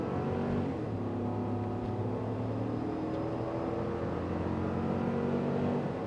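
A 2024 GMC Yukon full-size SUV accelerates hard at full throttle onto a highway, its engine droning loud and steady from inside the cabin with a rising hum throughout.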